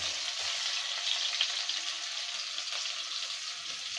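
Chopped onion frying in a wok, a steady, close sizzle that holds without a break for the whole stretch, with faint watery crackle on top and no voices.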